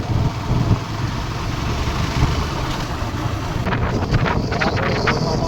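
Cold wind on a hill road above the Rapti river in Dang rushes and buffets loudly and without a break, a constant roar with occasional stronger gusts.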